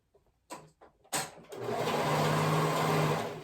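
A sewing machine stitches two raw fabric edges together: a few short clicks and taps, then a steady, even whirring hum that runs without a break for about two seconds.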